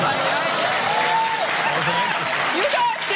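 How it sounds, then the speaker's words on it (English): A studio audience applauds on a talk show, a broad wash of clapping with a person talking over it. "You can clap all you want"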